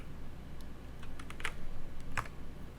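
Computer keyboard keys pressed as shortcuts while modeling a hot air balloon in Blender, a few light, scattered clicks over a steady low background hum.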